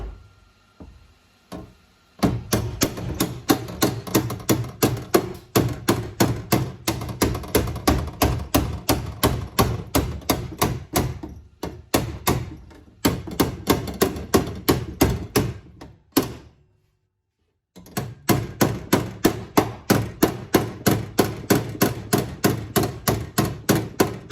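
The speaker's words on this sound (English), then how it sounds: "I'm using my big hammer in the back as a dolly." Rapid, regular hammer taps ring on the sheet-metal firewall of an 1988 Jetta 4x4, a second hammer held behind as a dolly, each strike sharp and close, with brief pauses between runs of blows.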